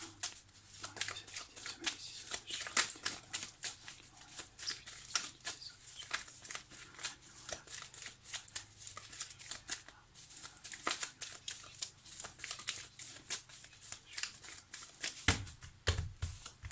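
Tarot cards are shuffled and cut by hand close to the microphone, giving a quiet, rapid run of riffling clicks and flicks for the whole stretch.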